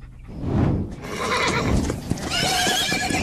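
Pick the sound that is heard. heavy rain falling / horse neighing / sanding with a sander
horse neighing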